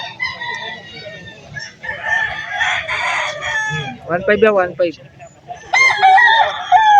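A large Peruvian line rooster crows loudly nearby at a Sunday chicken market, its drawn-out call rising over a brief exchange of voices and low background noise.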